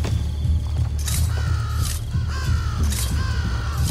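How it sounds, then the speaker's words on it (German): Crows caw repeatedly in the video game Assassin's Creed Brotherhood, several harsh calls in quick succession over a loud, steady ambient rumble. "Nicht so laut, ihr verdammten Krähen."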